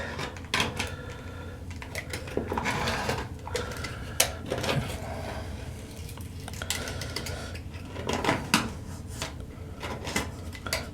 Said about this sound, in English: Start cutting it out. Like so. Keeping the knife flat to either surface.